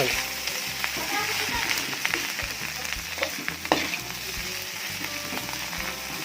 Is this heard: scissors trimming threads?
no